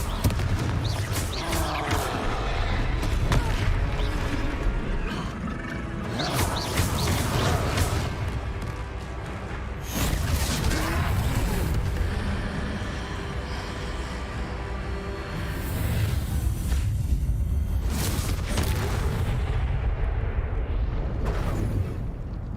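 Confringo blasting spell explosions against trolls in the Hogwarts Legacy video game, with loud, dense booming bursts and rumbling crashes going on continuously under battle noise and voices.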